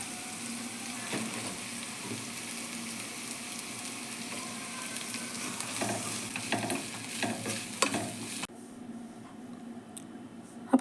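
Flattened rice (aval) stirred into a hot pan of fried onions, nuts and turmeric for aval upma, giving a continuous close sizzle with scraping stirs that drops to a quieter hiss near the end.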